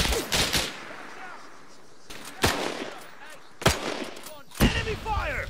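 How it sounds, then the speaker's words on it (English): Gunfire and machine gun fire in the ArmA 3 video game, several sharp loud bursts of shots spaced a second or so apart with echoing tails, and voices shouting between them. "Enemy fire! Contact!"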